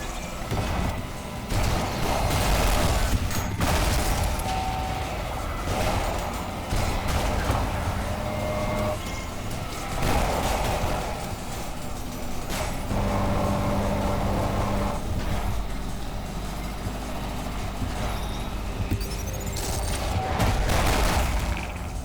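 Dense bursts of gunfire from the video game Ultrakill crackle almost nonstop, loud and close, over a constant background of game music and effects, with no voices.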